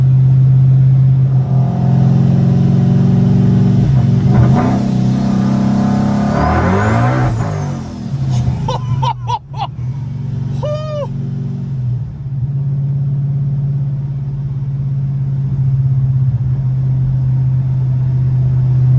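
A Ford Mustang S197 with a Gen3 Coyote V8 swap rumbles loudly at a steady idle, then revs and accelerates hard with rising engine roar and a brief tire chirp before settling back into a deep, close drone.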